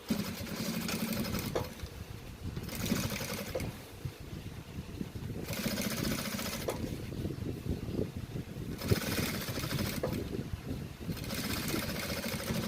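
A sewing machine runs a safety seam on a fabric bag in steady whirring bursts of one to two seconds, stopping and starting about five times, close and fairly loud.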